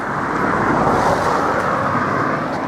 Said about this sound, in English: Wait for this car to pass.